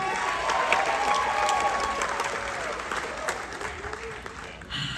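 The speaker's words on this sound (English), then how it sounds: "Keep that applause going for this orchestra." A cruise ship theater audience applauds the orchestra during an evening show, with full, steady clapping and a few cheers. A host's voice carries over the ovation, which thins toward the end.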